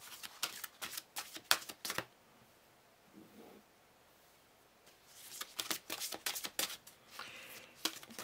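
Oracle cards being shuffled by hand, with quick papery riffles and flicks in two bursts separated by a quiet pause, close and fairly soft.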